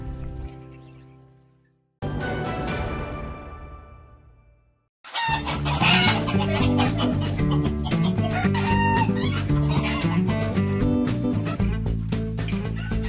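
Free-range village laying hens on a farm in Badung, Bali, cluck loudly and continuously at close range while a rooster crows, after two brief abrupt sound cuts at the start.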